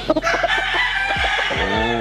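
A six-month-old young rooster crows loudly and close by, with clucking fowl and farmyard noise around it.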